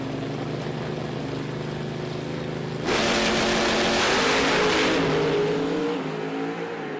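A pro stock drag race car launches and accelerates hard down the strip at a PDRA Northern Nationals event, a sudden loud engine roar bursting in after a steady idle rumble and fading as the car pulls away.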